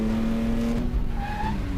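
A BMW M5 slides through a corner while drifting, its tires giving a short squealing skid over the steady roar of the engine, close and loud.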